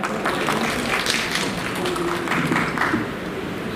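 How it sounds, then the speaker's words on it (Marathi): An audience at a Marathi poetry convention claps for the organiser, a dense, even wash of applause that holds steady for several seconds with no voices over it. "यांच्यासाठी एकदा जोरदार टाळ्या"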